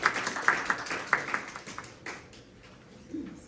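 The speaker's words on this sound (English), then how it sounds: "So let's give him a round of applause as welcome." A small audience gives a chef a brief welcoming round of applause before a cheesecake demonstration, a handful of scattered, fairly close claps that taper off and fade within a few seconds.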